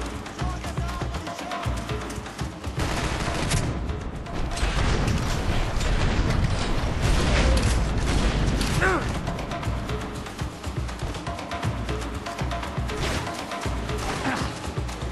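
Sustained gunfire and impacts in Max Payne 3 during a firefight at the Comando Sombra base, dense crashing bursts running throughout at steady loudness, with a voice speaking over parts of it.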